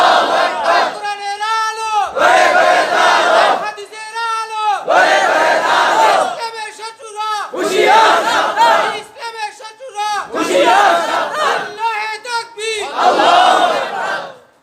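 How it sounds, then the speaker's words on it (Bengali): A large crowd at a religious gathering in Dhaka shouts slogans in unison, loud rhythmic chant phrases repeating in waves with short pauses between them. "তারা একটু হাত তুলে স্লোগান দিয়ে দেখায় দেন।"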